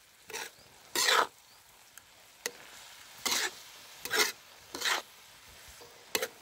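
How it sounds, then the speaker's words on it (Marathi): Onion curry with soaked dal stirred in a pan over a wood-fired chulha: several separate scraping, sizzling strokes of a spoon, each about a second long, with quiet gaps between them. "आता मी ही भाजी हलवून घेतो हलवून घ्यायची"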